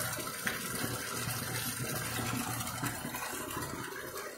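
Water gushes steadily from a side borewell in a village well setting, about one to one and a half inches of flow, a continuous near rushing wash that holds fairly even throughout with no speech.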